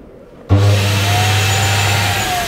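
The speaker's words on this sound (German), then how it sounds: "Und dann mache ich einfach mal hier den Staubsauger an." A Dometic central vacuum cleaner in a caravan switches on abruptly and then runs with a steady, loud drone and whine for the rest of the moment, with no talking.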